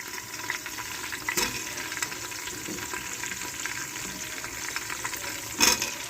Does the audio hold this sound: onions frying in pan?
yes